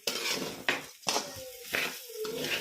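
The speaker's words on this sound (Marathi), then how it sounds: "पुन्हा एकदा एखाद मिनिटवर परतून घेते" A masala mixture is sautéed in a kadai for mixed vegetable pulao. A spoon scrapes and clinks against the pan in several distinct strokes over a soft sizzle, close up and with no voices.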